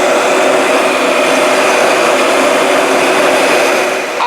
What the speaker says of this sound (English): I just have a heat gun, so I'm using it.